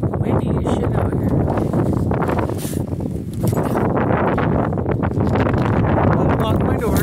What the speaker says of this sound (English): Fucking windy as shit out here.